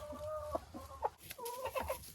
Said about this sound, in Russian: Вот он зовет куриц.